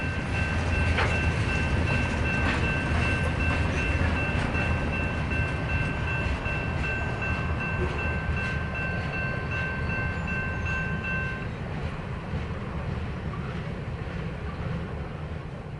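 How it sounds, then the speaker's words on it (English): A short mixed freight train rolls past at dawn, its wheels and cars rumbling loudly and steadily near the tracks, with a sustained horn-like tone ringing through most of the pass before the noise eases as the rear end goes by. "As dawn breaks, the back end of this short mixed freight passes the camera."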